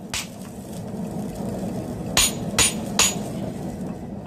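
A drift is hammered through the eye of a steel Japanese hammer, giving four sharp metallic strikes, one early then three in quick succession, over a steady workshop hiss.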